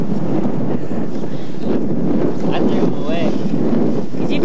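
Cold, strong wind at a mountain campsite in Bolivia along the Inca Trail, buffeting the microphone in a loud continuous roar with gusty swells throughout.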